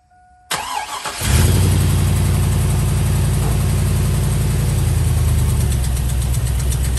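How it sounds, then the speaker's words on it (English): A Chevrolet Silverado pickup engine cranks and starts, then settles into a loud, steady idle with a slightly uneven, rough misfiring pulse throughout. "this one idles pretty bad. I'll go ahead and start it up and show you."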